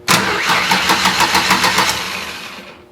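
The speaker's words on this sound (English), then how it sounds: "Okay, we know the motor turns over." A 2002 Ford Ranger that won't start cranks over with its starter bridged, a loud close rhythmic churning of about a dozen even beats for two seconds before winding down, no engine catch and no talking.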